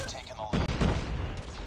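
A grenade explodes in the video game COD Mobile with a single loud, close boom and a short rumbling tail.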